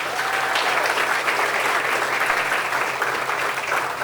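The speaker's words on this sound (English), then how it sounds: "Please give them a round of applause" Steady applause from an audience at the grand opening of a university athletics performance center, many hands clapping in a dense, even wash that holds throughout without a break.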